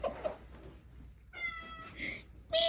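A cat gives a few short, close meows amid quiet room noise, with a brief soft voice early on.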